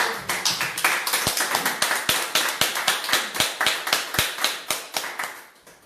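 A church congregation applauding together, a run of sharp, rhythmic, fairly close claps that starts dense and thins into evenly spaced beats before fading, with no voices over it.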